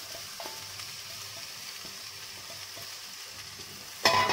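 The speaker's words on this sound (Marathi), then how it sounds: "त्यात मी एका कांद्याची पात घालणार आहे" Spring onion frying in a pan gives a steady, soft sizzle with faint stirring ticks, followed by a sudden louder clatter at the end. No one speaks.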